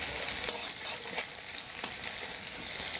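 Onions fry in a pan as bay leaves and panch phoron five-spice are added while making chicken liver chana dal, a steady close sizzle with a few brief crackling bursts.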